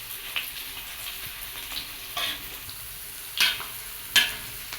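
Food stir-frying in a pan until fragrant, a soft continuous sizzle with a few sharper crackling bursts of spatula stirring at irregular intervals, close and fairly quiet with no talking.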